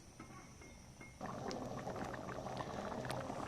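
Ghughni, a pea and potato curry, boils in a pot with a steady bubbling hiss that thickens and grows louder about a third of the way in, then continues evenly with small pops and splutters.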